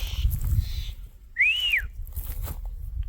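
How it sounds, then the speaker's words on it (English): A single short rising-and-falling whistle from a person, clear and fairly close, over outdoor background noise with no talking. "I know sometimes I whistle too much."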